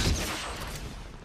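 A short burst of gunfire in Fortnite, a sharp loud report at the start that fades into a brief rumbling tail.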